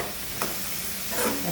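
Small shrimp with onion, garlic, turmeric, chili, coriander and cumin get sautéed in a pan: a short spell of close sizzling with a stirring scrape and a brief louder hiss.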